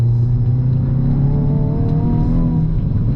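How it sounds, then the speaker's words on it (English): Engine note of a Hyundai i20 N, likely the 2025 model, holding a steady, loud drone with rising harmonic lines as the revs swell briefly during a downshift on the road, heard from inside the cabin. "it'll just give it a gentle blip of the throttle to downshift"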